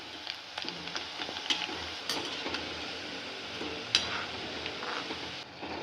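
Rice flour chakri frying in hot oil over a medium flame, giving a steady close sizzle with faint scattered clinks and stirring knocks and no talking.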